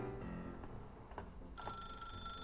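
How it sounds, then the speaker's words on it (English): A telephone rings in the video game The Stanley Parable, with electronic bell-like trills repeating over a low hum; the ringing turns brighter and more insistent partway through, with no one talking. "If you can truly place your faith in another, then pick up the phone."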